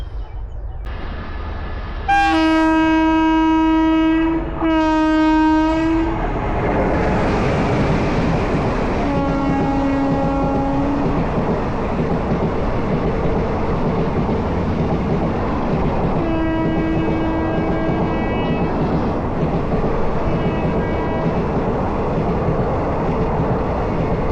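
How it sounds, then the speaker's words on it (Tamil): A train rumbles past close by with repeated loud horn blasts, steady rolling noise filling the whole stretch between the honks. "ட்ரெயின் வந்துக்கிட்டு இருக்குது எடுக்கலாம்"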